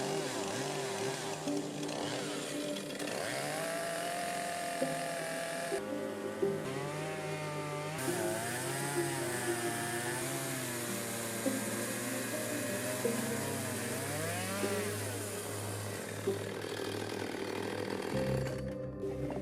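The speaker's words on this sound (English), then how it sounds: "If you're ever considering milling with a chainsaw, this 50-inch board took me 10 minutes per side." A chainsaw milling a 50-inch wooden board, its engine droning steadily and wavering in pitch as it cuts, running continuously throughout at moderate distance.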